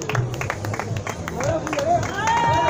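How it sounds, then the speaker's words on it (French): Crowd applause and cheering for a runner at the finish of the Montpellier Urban Trail 2020 race, mixed with crowd babble and a loudspeaker voice over the noise. "Allez, encore des applaudissements s'il vous plaît"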